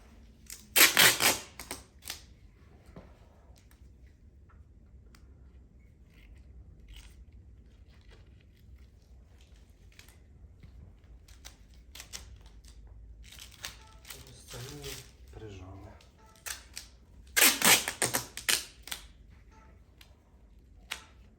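Adhesive tape being pulled off a roll and pressed down while dressing an open abdominal wound in first-aid training, two loud ripping bursts near the start and end with softer crinkles and handling noises between.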